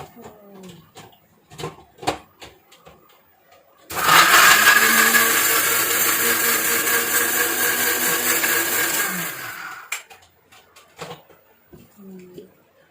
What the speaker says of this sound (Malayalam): ഈ ബ്രെഡ് മിക്സിക്കകത്തിരുന്ന് പൊടിച്ചെടുക്കണം